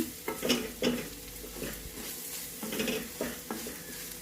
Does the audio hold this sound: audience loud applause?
no